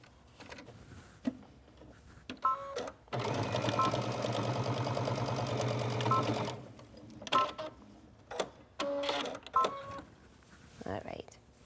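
A sewing machine stitches a folded seam on workout wear, closing a thumb-hole hand warmer, in one steady run of about three seconds. Talk and short handling noises come before and after it.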